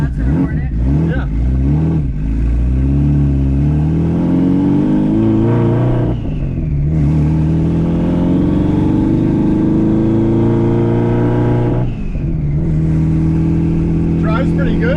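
A K-swapped Subaru STI engine drones loudly while driving, its pitch climbing through revs, dropping at shifts around six and twelve seconds, then rising again, with a voice talking over it inside the car.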